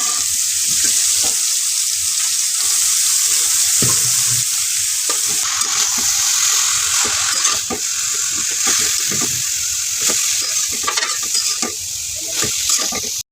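Chopped water spinach (kalmi shak) frying in a pan over onion, green chilli and salt, a loud, steady, close sizzle with repeated stirring scrapes and clinks throughout, no voices.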